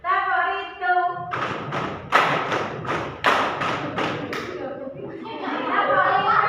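A classroom of students performs a rhythmic group clapping routine, with several sharp unison clap bursts in a patterned beat, chanting voices mixed in and talk before and after.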